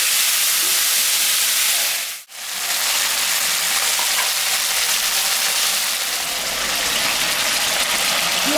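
Cauliflower, potato and eggplant frying in mustard and fish oil tempered with dried chilli and cumin, a steady close sizzling hiss that drops out briefly, then resumes and continues loudly to the end.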